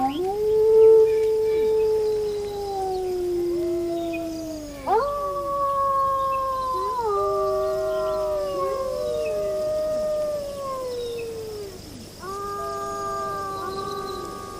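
Several wolves howl together in long overlapping rising and falling cries, a chorus of wild pack animals with fresh voices joining in waves, no speech over them.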